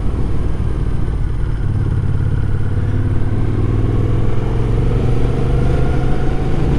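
Moto Guzzi V7 motorcycle being ridden on a cold winter road, its engine a steady loud drone with continuous wind rush and road noise, no break throughout.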